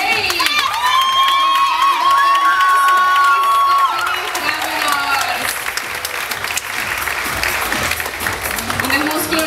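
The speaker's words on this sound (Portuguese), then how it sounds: "Um forte aplauso para Jay!" A large crowd applauds and cheers at a live stage show, loud continuous clapping mixed with shouts and whoops, with a voice and tonal sounds carrying over the din.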